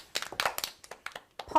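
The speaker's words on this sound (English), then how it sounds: "Polly's clapping her hands" A handful of quick, light hand claps in an uneven rhythm, close and fairly quiet, in a small classroom setting.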